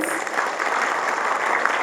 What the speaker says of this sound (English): Can I see my audiences smile and giving our jury a big round of applause, please?